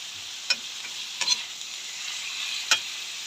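Carrots and hotdog sauté in a pan with a soft continuous sizzle, and a few sharp utensil scrapes and taps sound close by over it, with no talking.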